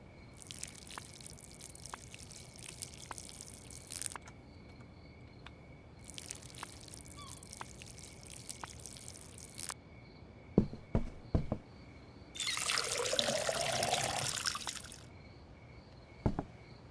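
Plants are watered in the video game Schedule I: a hissing, splashing pour of water runs for a few seconds, with light clicks and drips nearby and intermittent high insect-like chirping in the background.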